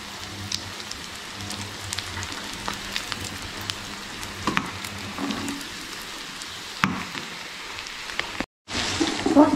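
Garlic and shallots frying in oil left from frying papadam, for a chili chutney, give a steady close crackle and sizzle with scattered pops, broken by a brief silent gap near the end before the frying resumes.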